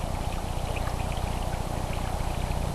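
Water pours steadily into a gold pan while panning down to bedrock, a continuous close splashing rush with no voices.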